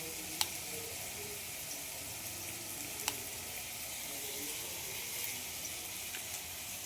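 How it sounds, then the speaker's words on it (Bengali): A steady, soft sizzle of onions frying in a pan, continuous and even, with a couple of faint clicks. "পেঁয়াজগুলো ভাজা হয়েছে অনেকটা, আর বেশি ভাজবো না, লাল করবো না।"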